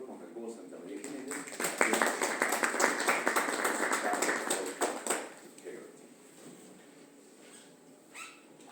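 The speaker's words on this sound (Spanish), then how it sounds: "Los cordiales aplausos" Warm applause from a lecture audience for a speaker at an Andean linguistics research workshop, with dense clapping that swells for about three seconds, then thins out and fades to quiet room tone.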